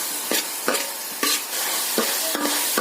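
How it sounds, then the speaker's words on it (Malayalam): Tomatoes are sautéed in a pan while making rava upma, with a spoon scraping and stirring in quick irregular strokes over a constant close sizzle; no talking. "തക്കാളി ചേർത്ത് നല്ലവണ്ണം വഴറ്റി എടുക്കണം"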